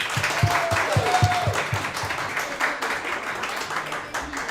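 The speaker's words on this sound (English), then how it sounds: "If Michael Jordan is the greatest, clap" Small group of girls' basketball players clapping at a pizza restaurant to vote for Michael Jordan, with scattered claps and some rhythmic beats under background chatter and a brief whistle-like tone.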